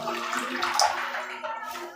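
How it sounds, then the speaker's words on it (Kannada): Water pours into thick egg masala curry gravy in a cooking pan, a short steady gurgling stream that stays close and fairly quiet. "ಈಗ ಇದು ಗ್ರೇವಿ ಇದು ಥಿಕ್ನೆಸ್ ನೋಡಿಕೊಂಡು ಸ್ವಲ್ಪ ನೀರು ಆ್ಯಡ್ ಮಾಡ್ತಾ ಇದ್ದೀನಿ"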